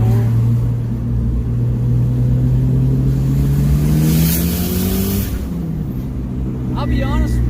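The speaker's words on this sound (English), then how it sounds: "Second gear pull." Mitsubishi Eclipse GSX with a 16G turbo pulling hard in second gear, engine drone rising steadily in pitch for about five seconds before a brief dip at the shift, loud and close from inside the car.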